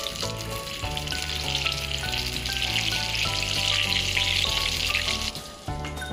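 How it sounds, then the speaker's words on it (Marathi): Vada, potato fritters for vada pav, frying in hot oil in a kadai, with a loud continuous bubbling sizzle and faint clinks of a utensil, no voices. "नंतर आपण एका कढईमध्ये तेल टाकले, आता त्यात एक एक सोडायचा वडा।"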